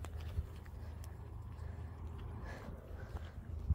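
A truck in a video game rumbles past as a steady low engine drone, quite faint, with a few soft thumps and no clear rise or fall.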